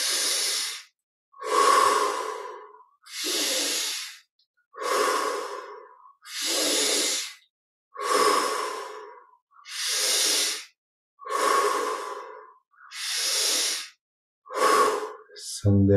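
Slow, deep breathing exercise: ten long, even breaths in and out, each a loud airy rush lasting about a second with short pauses between, close and alone without talk.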